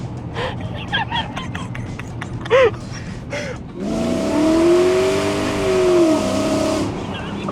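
A modified cheap V8 car in a drag race accelerates hard, its loud engine roar rising and sweeping in pitch for about three seconds before easing off; voices talk and gasp just before it.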